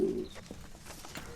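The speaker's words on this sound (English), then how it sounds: "Sorry about all the pigeon noises." A pigeon coos nearby in a soft low burst at the start, followed by fainter rustling and background murmur.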